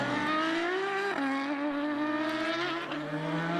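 Formula BOSS race car at Mondello Park, Ireland, a loud high-revving engine wail with shifting pitch as it drives by on the circuit, alone with no talk.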